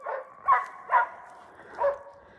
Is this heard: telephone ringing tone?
no